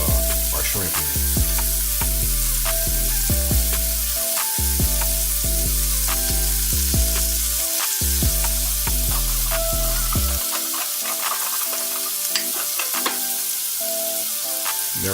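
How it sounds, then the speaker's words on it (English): Shrimp frying in bacon grease over medium-high heat, a continuous hiss and sizzle running beneath loud, steady background music throughout. "that's what we're going to fry our shrimp in"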